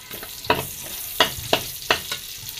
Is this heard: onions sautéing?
yes